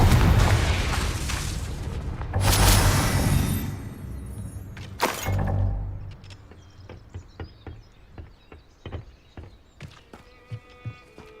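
Confringo spell in Hogwarts Legacy bursting into heavy booming blasts, two big rumbling explosions that fade into scattered crackles, small pops and clattering debris.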